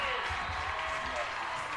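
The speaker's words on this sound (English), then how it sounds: "You hear the crowd." A high school football crowd of about 1,500 gives a brief burst of cheering and applause during a night game, heard mixed with a voice talking over it.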